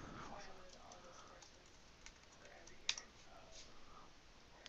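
Faint, sparse computer mouse clicks in a Google Docs session, a couple of small dry ticks over a quiet room hum with no talking.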